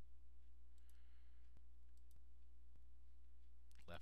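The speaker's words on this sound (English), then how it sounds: "Left click on the component that you want to disappear." Sharp mouse clicks at a computer running SolidWorks CAD software, three crisp, isolated clicks spaced about half a second apart over a steady low hum, with a short burst of clatter at the end.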